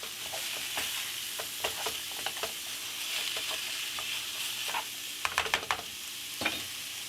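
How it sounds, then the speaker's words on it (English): Sizzle of a pound of ground beef frying in a hot pan, steady crackle throughout with a run of sharper scraping stirs clustered near the end. "we're going to be using a pound of ground beef. Break it up,"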